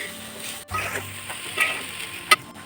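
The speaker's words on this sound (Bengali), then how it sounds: "সব উপকরণগুলো দিয়ে ভালোভাবে একটু নেড়ে চেড়ে নিচ্ছি" Kashmiri chilli powder, spices and a pinch of asafoetida sizzle in a pan for stuffed spine gourd filling, with a spoon stirring and scraping and a sharp utensil clink near the end, close and fairly quiet.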